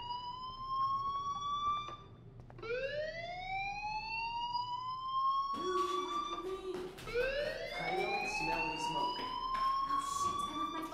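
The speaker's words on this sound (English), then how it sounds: "do you hear that fire alarm? That means you should be outside." A fire alarm sounds in a video game as a rising, wailing siren tone that repeats in long sweeps, loud and steady, with layered siren cycles overlapping toward the end.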